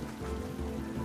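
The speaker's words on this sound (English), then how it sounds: "Alright, it's raining." Steady rain falls in a fantasy strategy game, Thea 2, a soft even hiss with low rumbling body running unbroken and fairly quiet, no voices over it.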